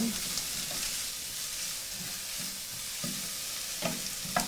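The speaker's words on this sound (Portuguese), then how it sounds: "Esse refogado que eu tô fazendo aqui é para acompanhar os cubinhos" Onion for a refogado sautés gently in a pan, making a faint, even sizzle with a few soft stirring scrapes.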